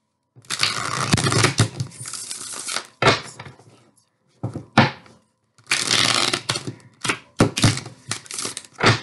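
Tarot cards are shuffled by hand in repeated bursts of riffling and flapping, close and crisp, broken by short pauses and sharp taps.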